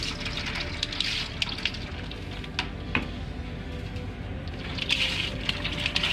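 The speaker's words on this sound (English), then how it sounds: "Go ahead and fill that up with some water." Water poured from about a gallon into the drippings pan of a smoker for a carne asada brisket, a steady broadband gushing and splashing that runs throughout at moderate loudness with small sloshes.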